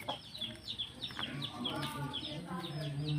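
Native chickens cluck in a steady outdoor farmyard chorus, with repeated short calls over a constant low background hum and no voices.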